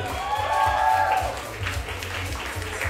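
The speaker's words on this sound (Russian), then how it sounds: "аплодисменты" Audience applause at a dance competition during a High Heels solo category, a steady wash of clapping running under a thumping rhythmic music beat and a sustained tonal sound early on.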